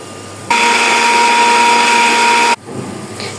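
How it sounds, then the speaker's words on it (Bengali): A blender grinding dried fish whirs loudly for about two seconds with a steady high hum, then cuts off abruptly into quiet. "এগুলো এখন সব একসাথে দিয়ে আমি ব্লেন্ডারে ব্লেন্ড করে নিব"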